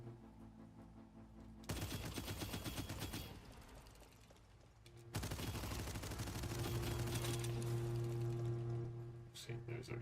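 Rapid gunfire at a shooting gallery in a video game comes in two loud bursts of fast repeated shots, separated by a brief quieter gap, over a constant low background hum.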